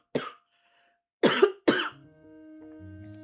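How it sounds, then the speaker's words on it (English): Three separate bursts of harsh coughing, one short cough, a pause, then two more close together, followed by a low steady hum. "Oh no, more coughs are coming."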